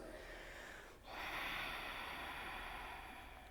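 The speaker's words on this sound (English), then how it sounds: "Ujjayi breathing. Let me hear you breathe in and out your nose." Ujjayi breathing during a yoga class: one slow, audible inhale and exhale through the nose with a soft ocean-like hiss, close and steady, with no talking.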